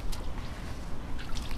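A small child splashes in an outdoor water table on a hot summer day, making irregular nearby slaps, trickles and drips of water.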